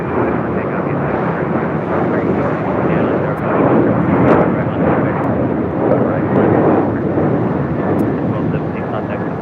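Roar of a United heavy jet airliner on its takeoff run from runway 25R at LAX, a steady broad rumble that holds loud and close for the whole stretch, swelling slightly midway, with faint voices underneath.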